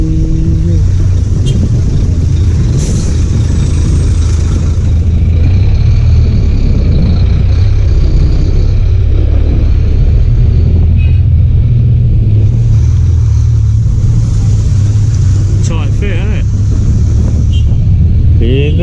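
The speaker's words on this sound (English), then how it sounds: "The traffic is flowing" Road traffic on a street in Davao City, Philippines, with idling and passing car and lorry engines rumbling loud and close, a person talking over the noise.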